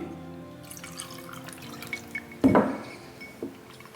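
Water poured into a whisky glass during a tasting, a short splashing pour with a bright glassy clink at its peak, followed by a faint drip, set against a quiet indoor background.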